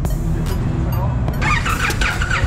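An Indian motorcycle at a Sturgis rally crowd cranks and fires up, the engine catching in a rough burst near the end, loud and close amid outdoor background noise.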